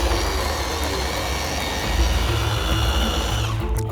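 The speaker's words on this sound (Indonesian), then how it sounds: "Blender sampai halus." A blender grinds chilies with oil, salt and sugar into a smooth spice paste for an asam pedas fish dish, a steady loud whirring drone that runs unbroken for the whole stretch, with no voices over it.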